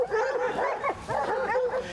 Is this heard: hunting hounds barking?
yes